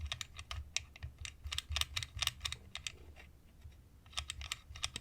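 The dial of a La Gard 2270 safe lock clicks in quick, close-up bursts while it is being picked, with short pauses between rapid runs of sharp little ticks.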